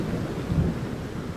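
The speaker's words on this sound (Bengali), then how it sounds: "শুরু হয় বাতাস আর বৃষ্টি" A night storm of wind and rain over a village brings a steady, dense roar with low rumbling swells, continuous and close, with no voices.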